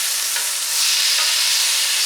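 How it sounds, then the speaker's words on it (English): Diced zucchini sizzles and hisses steadily in olive oil in a skillet as it is stirred, the frying noise close, bright and continuous, growing slightly louder partway through. "Give these a quick stir so they're all coated with the olive oil."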